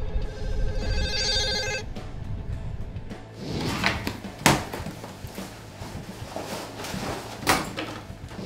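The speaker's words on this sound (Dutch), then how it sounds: "Alert for Home belt je op je mobiele telefoon" A mobile phone rings with an electronic tone when a home alarm system calls it, followed by a few close knocks and shuffling sounds in a room.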